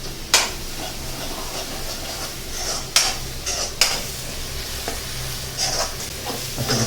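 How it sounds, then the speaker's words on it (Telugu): Onions and masala stirred and fried in a pan for a Kerala-style chicken curry, a steady sizzle under repeated scraping spoon strokes against the metal, close and fairly loud. "అసలు బాగా కలుపుతున్నారు ఇంకా ఫ్రై అవటం కోసం."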